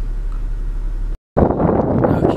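Loud gusty wind roaring against the microphone beside a tennis court, cut by a brief silent gap before buffeting again.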